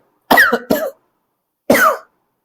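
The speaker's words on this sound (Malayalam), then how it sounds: "ഇപ്പൊ ചുമ വന്നത്" Three harsh coughs, two in quick succession and then a third after a short pause, loud and close.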